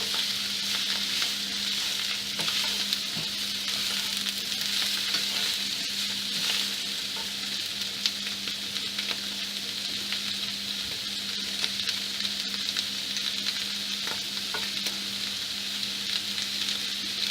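Diced sausage with casings on browning in olive oil in a pan, a steady close sizzle with a faint hum underneath and scattered small pops and stirring ticks throughout, no talking.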